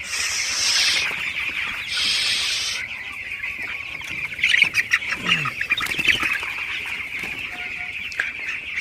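Many broiler chickens, about fifteen days old, cluck and chirp together in a busy, continuous chorus with high peeping throughout, close and steady, no voices.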